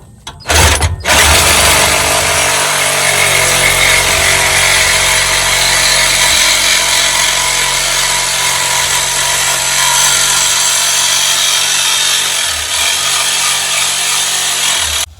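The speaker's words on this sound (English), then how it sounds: "that Sawzall cut right through it" DeWalt Sawzall reciprocating saw cutting through an exhaust flex pipe, a loud, harsh, continuous buzzing rasp close up that runs almost nonstop for about fourteen seconds after a short start, then cuts off.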